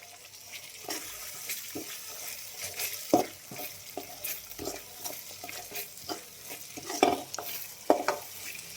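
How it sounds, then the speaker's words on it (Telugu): Egg masala curry spices fry in a pan with soft sizzling, punctuated by irregular scraping stirs and clinks of the utensil; no one speaks. "మసాలా అయితే ఫుల్ పచ్చివాసన పోయేంత వరకు వేయించుకుందాం బాగా."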